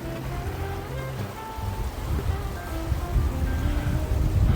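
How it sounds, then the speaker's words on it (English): Creek running with a good flow on a mild late-winter day, a steady broadband wash of moving water, fairly close and continuous, with no voices. "Creek's got a good flow to it today."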